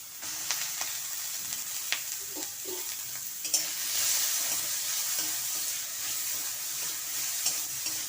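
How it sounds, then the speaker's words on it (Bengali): Pointed gourd frying with tomato, coconut, ginger, green chili and asafoetida, stirred in a pan: a steady close sizzle with scattered scraping clicks of the spoon, no voices. "একটু নাড়াচাড়া করে নেব।"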